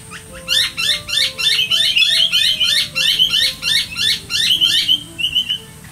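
Blue-faced honeyeater calling in Australia, a loud run of repeated sharp, piping notes in rapid rhythm, close and clear over faint background hum for about five seconds.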